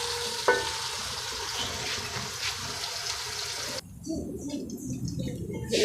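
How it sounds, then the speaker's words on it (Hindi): Onions frying in a pan until brown give off a continuous bubbling sizzle, with a sharp clink early on and a sudden drop to a lower, duller frying sound partway through. "प्याज अच्छी ब्राउन कर लेने हैं।"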